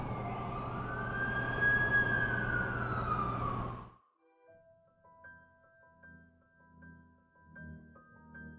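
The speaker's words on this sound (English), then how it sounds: "That's the ambulance I called." Ambulance siren in The Amazing Spider-Man 2 video game, a loud wailing sweep that cuts off abruptly, leaving faint tonal music behind.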